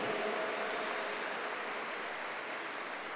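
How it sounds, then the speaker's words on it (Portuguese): Congregation applause at a Catholic worship service, a dense, steady wash of many hands clapping at an even level throughout, with no voices on top. "Vamos aplaudir sim nosso Senhor."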